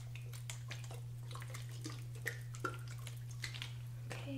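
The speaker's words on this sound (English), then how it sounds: "So just start out with your bowl, and we're going to pour in, it's a 1-to-1 ratio" Hair color developer is poured into a mixing bowl, giving faint, close dripping and splashing sounds that are quiet and intermittent, with a few small sharper splashes over a steady low electrical hum.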